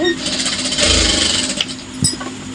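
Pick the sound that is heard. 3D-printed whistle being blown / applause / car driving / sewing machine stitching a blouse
sewing machine stitching a blouse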